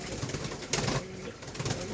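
A pearl-eyed pigeon with an eye infection gives soft, low coos in short rolling bursts, close but fairly quiet against a background hiss.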